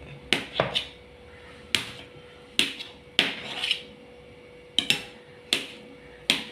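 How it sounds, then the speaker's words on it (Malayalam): Knife chopping a block of glycerin soap base into small pieces: a series of sharp, distinct cuts in an uneven rhythm, close up and fairly quiet, with no talking. "നമുക്കിത് ചെറുതായിട്ട് തന്നെ കട്ട് ചെയ്തെടുക്കാം"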